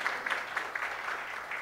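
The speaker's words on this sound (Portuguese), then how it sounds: "Palmas para o vereador professor Erildo" A small audience at a formal council session gives soft, brief applause for a councillor, faint scattered clapping heard from a distance.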